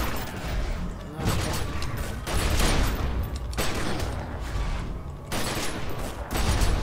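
Gunfire in The Secret World video game comes in loud, noisy bursts separated by brief lulls, roughly five volleys in quick succession.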